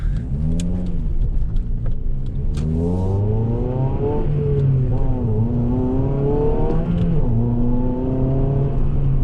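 A 2007 Honda Civic Type-R engine revs hard at 4,000–5,000 rpm, its pitch climbing and dropping through several gear changes, loud and steady from inside the car.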